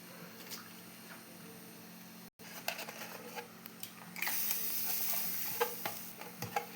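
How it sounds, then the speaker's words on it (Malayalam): Freshly cut and washed fish pieces go into boiling curry masala in a pot, giving soft wet plops, stirring and a quiet bubbling simmer. After a short break the bubbling grows into a louder, steadier sizzle close by. "അപ്പോഴത്തേക്ക് നമുക്കിനി അറുത്ത് കഴുകി വെച്ചിരിക്കുന്ന മീനൊക്കെ ഇട്ട് കൊടുക്കാം"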